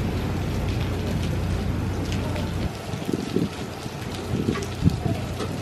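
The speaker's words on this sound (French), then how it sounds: "évidemment comme d'habitude il pleut, il y a l'orage" Steady rain falling with wind during a thunderstorm at an outdoor beach festival site, a constant hiss of drops with occasional louder patters and gusts, no voices.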